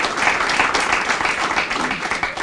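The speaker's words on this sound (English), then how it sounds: "Can we give them all a round of applause?" An audience at a high school education event gives a brief, steady round of applause, a dense patter of clapping at moderate loudness with no break.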